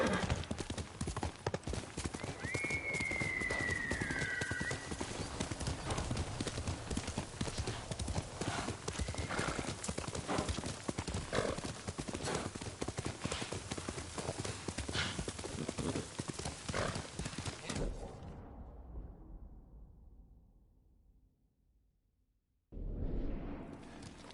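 A horse in the video game Ghost of Tsushima trots with a steady, rhythmic clip-clop of hooves close by, a brief neigh early on, then fades to silence before resuming abruptly near the end.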